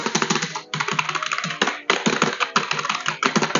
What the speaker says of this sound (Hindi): ये मैकेनिकल कीबोर्ड तो नहीं है, पर मैकेनिकल कीबोर्ड ना होने के बावजूद भी इसमें आवाज़ अच्छी आती है।